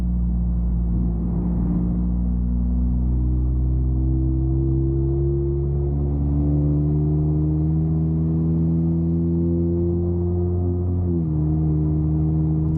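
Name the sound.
loud catless car engine in traffic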